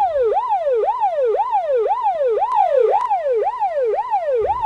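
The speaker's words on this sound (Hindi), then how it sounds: "अरे देखिए भाभी एम्बुलेंस आ गई है" An ambulance siren wails in a fast, regular rising-and-falling sweep, loud and close, repeating continuously with no voices.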